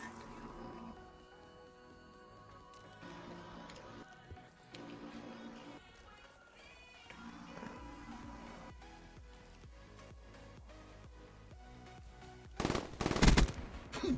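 Gunfire in a first-person shooter video game, with bursts of rapid shots over game music and effects, ending in a louder close volley near the end.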